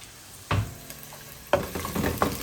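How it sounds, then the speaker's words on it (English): Onions are stirred and fried in a pan for a chapati meal, with a steady sizzle broken by three scraping stir strokes. No one speaks. "So at first you stir your onions"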